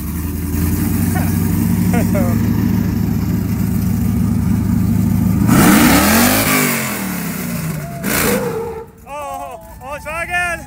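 A V6 four-wheel-drive vehicle revs hard during a downtown Clearfield summer burnout, its loud engine drone climbing and falling through a big rev sweep midway, with voices of onlookers talking near the end.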